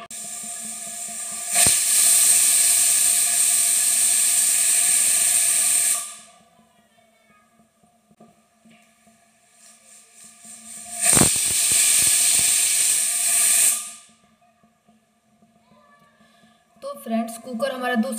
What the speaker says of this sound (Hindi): कुकर हमारा 2 सीटी दे दिया है